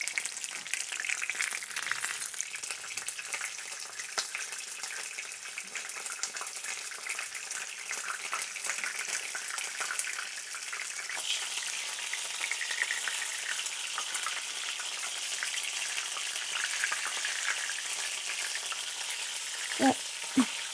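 Chicken breast Milanese cutlets fry in a pan while being pressed flat with a wooden spatula, giving a steady close sizzle and crackle throughout, with a couple of sharp knocks near the end.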